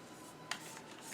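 Oracle cards shuffled by hand, a soft, brief papery riffle with one quick sharp flick, faint and close in a quiet room.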